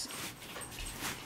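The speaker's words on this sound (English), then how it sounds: "Oh my god, the dogs are insane again." Several excited dogs whimper and yip in a brief, noisy burst, fairly close, with no one speaking.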